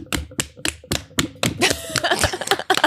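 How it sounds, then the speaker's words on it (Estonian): A small audience applauding at a prize-giving: a few separate sharp hand claps at first, then denser, overlapping clapping from several people. "aplaus"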